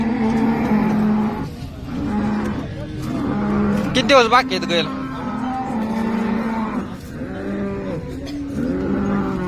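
Several cows moo repeatedly, loud and close, amid a busy crowd with people talking nearby at the Sangola cattle market.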